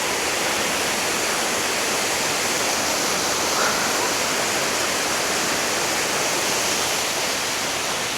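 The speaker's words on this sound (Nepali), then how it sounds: "ओए झरना अहिले हल्का फुल्का भयो नि, बढेर रहेछ यार।" Small waterfall on a hike near Sundarijal and Dhap Dam outside Kathmandu, swollen with muddy water, giving a steady, loud, dense roar of falling water that stays constant throughout with no talk.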